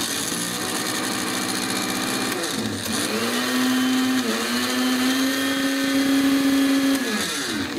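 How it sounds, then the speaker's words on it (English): A regular household blender powered by a 3000 watt inverter in an off-grid trailer whirs steadily and loudly, its motor pitch dipping briefly then climbing and holding a high whine before winding down. "Here, for example, we have a blender. This is just a regular household blender."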